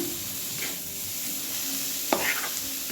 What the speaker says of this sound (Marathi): थोडं एक मिनिटभर असं जरा परतून घ्यायचं हलवून